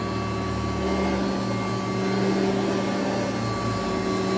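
Kirby G4 vacuum cleaner running steadily with its bag inflated, a loud constant motor drone with a whining hum, close and alone.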